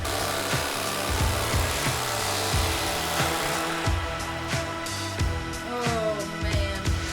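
A Mighty Carver electric carving knife slices through Texas-style smoked brisket cooked on a pellet grill, giving a continuous buzzing, rasping saw-like drone with rhythmic strokes as the blade works through the meat, loud and close with no talking.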